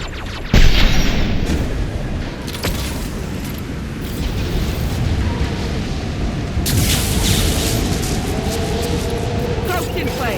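Flashbang grenades going off in the sci-fi shooter Mass Effect 2 Legendary Edition, with a sharp loud bang early on followed by sustained rumbling combat noise and later bursts, under game voices.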